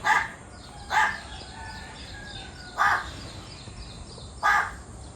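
A crow caws loudly and close by, four harsh calls spaced a second or two apart over a quiet background hiss.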